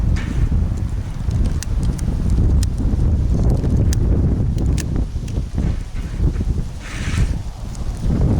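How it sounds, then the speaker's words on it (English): Strong wind buffets the microphone with loud, continuous low rumbling gusts, with faint ticking and rustling in the background. "We're out here on a really windy day"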